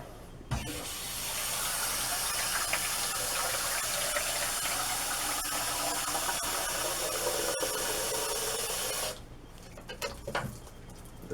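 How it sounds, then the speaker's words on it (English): Steady rush of water pouring and splashing into a hollow headlight housing for several seconds, then stopping abruptly, followed by light handling noises. "And I'm going to put some water in here."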